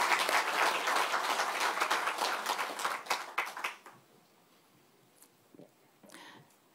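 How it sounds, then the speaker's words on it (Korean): Rally crowd at a Democratic Party event giving loud, dense applause for several seconds, thinning into scattered claps before dying out, with a few isolated sounds afterward. "여러분 힘을 실어 주시겠다면 힘찬 박수 부탁드리겠습니다."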